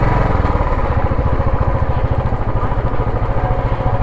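Motorcycle engine running close by with a steady, rapid, throbbing pulse, loud and alone.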